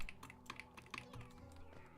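A computer keyboard and mouse in use during a game give out quick, close clicks and key taps in uneven bursts against a quiet background.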